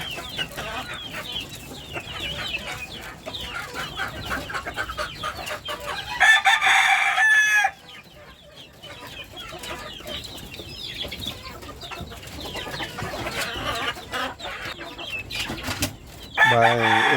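Chickens and chicks being fed on a Philippine backyard farm cluck steadily throughout, with roosters crowing loudly nearby in two bursts, no talking.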